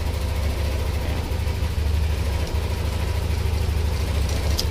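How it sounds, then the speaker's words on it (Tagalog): A motorcycle engine with a Smart Fi-2 fuel injection system idles steadily and low, a continuous close rumble running unbroken without revving. "kalmado rin motor oh. Hindi na mataas yung idle oh."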